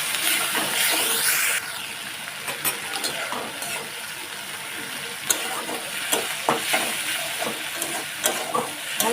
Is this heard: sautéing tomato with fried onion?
yes